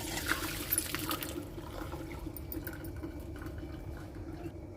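Boiled lentils and their cooking water are poured through a sieve into a pot, making a steady, close rush of splashing water that trails off slightly toward the end, with no talking.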